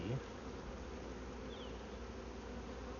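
A queenless honeybee swarm, agitated while being transferred into a new hive, gives a dense, steady buzz that holds at an even level throughout, close and unbroken.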